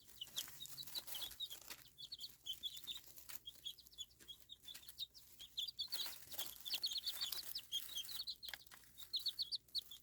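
Young chicks chirp in rapid, high, overlapping peeps with occasional soft clucks, faint and continuous over a low background hum.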